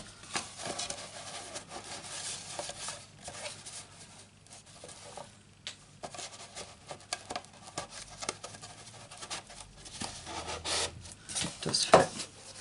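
Wooden piece pushed and rubbed into a snug opening in a wine box, giving close, intermittent scraping and rasping friction with a sharper knock near the end.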